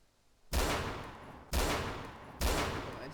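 Gunfire in the video game Arma: three loud, sharp shots about a second apart, each bursting hard and then trailing off in a long rolling echo, with no voices.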